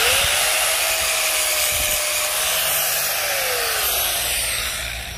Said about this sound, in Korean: 그라인더로 갈아서 이렇게 날을 세우면은요